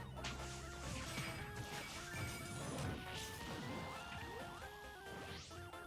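Fighters trading blows in a Super Smash Bros match, Villager pummeling King Dedede, with dense, continuous smacks and crashes layered over busy game music and effects throughout.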